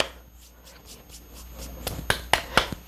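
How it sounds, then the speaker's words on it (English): Hands clap lightly to shake off excess adhesive during an at-home dip manicure: a few sharp, quiet pats that cluster toward the end over a soft, quiet room background. "Now, what I like to do first is just clap my hands a little bit."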